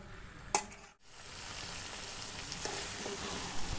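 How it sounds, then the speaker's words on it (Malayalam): Beef frying and sizzling in masala in a pan, stirred continuously until it turns dark for a beef roast, with a steady soft crackle, a brief scrape and clunk early on, and low overall level. "നല്ല കറുത്ത കളറാണ് വരെ ബീഫ് ഇളക്കിക്കൊണ്ടേ ഇരിക്കുക."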